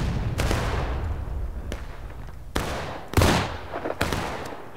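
Scattered gunshots and heavier cannon booms in a Civil War video game ring out at irregular intervals over a rumbling battlefield background, some close and sharp, others distant.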